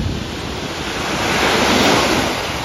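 Beach waves in Miami's South Beach roll in as a loud, close wash of surf, with heavy wind buffeting the microphone throughout the short stretch.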